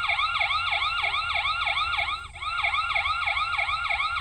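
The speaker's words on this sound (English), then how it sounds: "I'll show you what the siren sounds like." A rechargeable smart video doorbell sounds its siren alarm, a loud, steady wailing sweep repeating rapidly about every third of a second, continuous apart from a brief dip midway.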